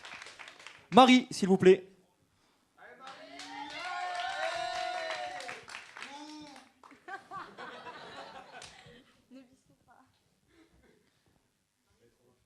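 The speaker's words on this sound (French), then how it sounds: "on peut l'applaudir quand même bien fort" Audience applause at a French cultural quiz night, a short burst of clapping near the start, followed by a host speaking into a microphone.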